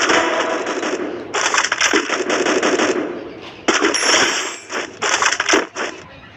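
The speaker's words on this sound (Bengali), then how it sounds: "আমি ডাবল স্নাইপার কত ভালো চালাই তোমাদের মাঝে দেখাই।" Sniper rifle shots ring out in a mobile shooting game in rapid bursts, with sharp cracks and clattering metallic sounds mixed with game effects. The bursts stop and start in irregular clusters at close, loud level.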